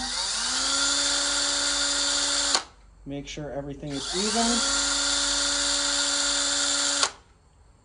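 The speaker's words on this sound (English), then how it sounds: "Doesn't hurt occasionally to just run your drill bit back through." A high-pitched drill whines loudly as its bit bores through deer antler, stops briefly while someone speaks, then spins up again for a second long run before cutting off.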